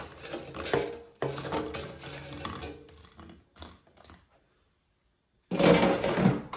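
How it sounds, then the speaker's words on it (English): Brazilian cheese bread comes out of an air fryer, the basket and pan clattering and scraping in short bursts with a quiet stretch in the middle before a final loud rattle. "Let's take it out of the air fryer."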